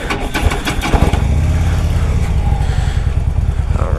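A 2016 Harley-Davidson CVO Road Glide motorcycle engine cranks with a quick series of starter pulses, then catches and settles into a loud, close, steady low rumbling idle.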